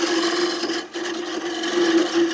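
A wooden spindle is rounded on a wood lathe, a gouge cutting the spinning wood with a steady scraping hiss and a sustained tonal whine, briefly dipping as the tool lifts, up close.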